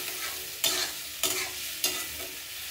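An egg marinated in salt frying in a pan with very little oil, heard as a soft sizzle broken by three evenly spaced scraping stirs, close and quiet.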